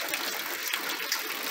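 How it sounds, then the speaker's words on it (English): Rainwater pouring off a roof edge and splashing onto the ground during Tropical Storm Hilary, a steady, close, continuous gushing rush with no voices. "But there is water coming down onto the ground on the edge of my roof here"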